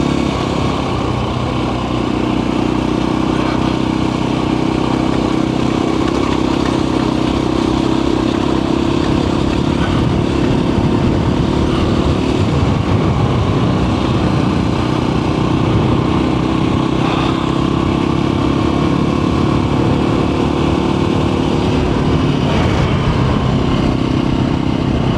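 A Voge Rally 300 motorcycle on stock tyres churning through loose sand, its engine a loud, continuous droning rumble with wind noise and rattling clatter, steady for the whole stretch.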